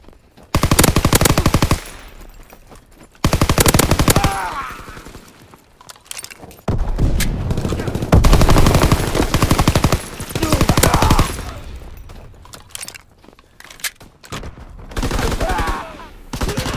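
Loud automatic gunfire in the Call of Duty WWII video game, with repeated machine-gun bursts and rapid shots separated by short lulls, and occasional battlefield voices in between.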